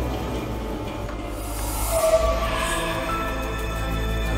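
The Walking Dead ghost train ride at Thorpe Park runs along its track with a steady low rumble and rattling of rails, a brief metallic squeal near the middle, and faint hissing above.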